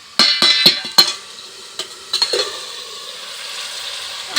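Vegetables, ridge gourd and pumpkin, sizzling and frying in a pan while being stirred, with a few sharp scrapes and clinks of the spoon early on, then a steady close sizzle with no voices.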